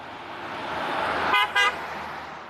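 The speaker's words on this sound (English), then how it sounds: "That was a loud horn." Two quick, loud car horn toots ring out close by over steady road and engine noise.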